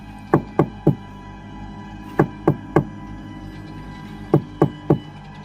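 Someone raps on the door of an old house with knuckles, three crisp wooden knocks repeated in three separate sets with short pauses between, close and clear against a quiet background.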